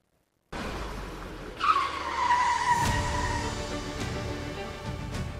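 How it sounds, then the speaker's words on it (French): Car traffic on a Kinshasa street: a nearby car's tires screech sharply for a couple of seconds, followed by engine rumble and road noise as vehicles move past. "C'est une véritable marée de véhicules et de motos que l'on croise à tout moment ou presque sur les principales artères de Kinshasa"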